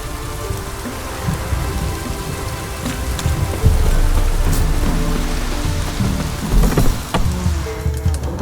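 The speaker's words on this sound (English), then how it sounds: "Proper downpour." Heavy rain pours steadily in The Witcher 3, a dense, unbroken hiss of downpour lasting the whole stretch with no voices.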